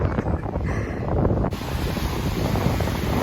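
Sea waves on the beach at Władysławowo, a continuous broadband wash of surf mixed with heavy wind buffeting on the microphone, close and steady.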